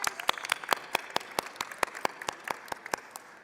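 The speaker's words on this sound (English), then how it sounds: "So I would like to applaud y'all." Scattered, sparse clapping from a small group inside the Texas House chamber during a legislative session, sharp individual claps at an uneven rhythm, moderately faint and without talk over it.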